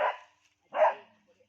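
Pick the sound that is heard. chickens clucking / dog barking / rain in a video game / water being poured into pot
dog barking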